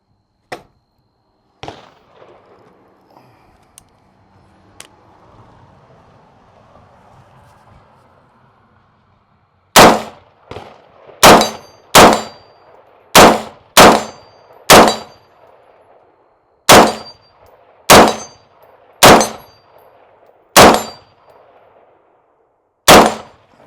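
.44 Magnum revolver shots ringing steel targets: after a few faint early pops, about ten loud, sharp reports each followed by a short metallic clang, spaced a second or two apart, near and alone.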